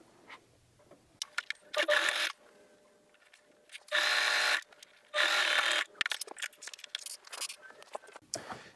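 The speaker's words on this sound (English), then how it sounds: "And then top stitch about a 1/16 of an inch to an 1/8 of an inch from the edge." Sewing machine top stitching close to the edge of a Halloween trick-or-treat bag, heard in three short motor bursts of a second or so each, the later two steady and loud, between quieter handling and rustling.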